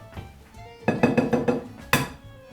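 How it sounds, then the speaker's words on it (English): Eggs cracked against a bowl while preparing fresh pasta dough, giving sharp, close knocks: one light tap, then a quick cluster of hard clinks, then a final crisp strike. "So you get a bowl. Bowl it. Crack the eggs."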